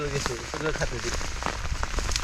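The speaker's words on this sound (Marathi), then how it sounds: "पाऊस चालू आहे वरला तुम्ही भिजताय बघा" Rain patters on a surface with light crackling drops while a person talks over it close by.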